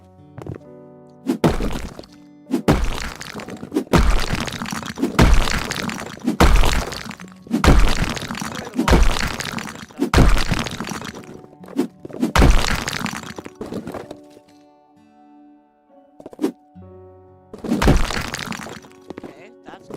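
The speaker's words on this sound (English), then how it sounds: "destroy walls" Walls being smashed down in House Flipper Remastered, a steady run of loud, repeated crunching thwacks and breaking impacts, each followed by crumbling debris, with brief pauses between strikes and occasional talk.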